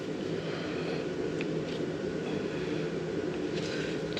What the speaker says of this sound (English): sorry if you hear a little blower in the background